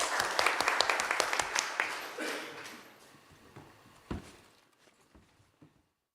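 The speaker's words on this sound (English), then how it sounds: "a warm applause for all our panelists" Audience at an investor-engagement panel event claps for the panelists, a brisk burst of applause that thins out and fades to a few scattered claps.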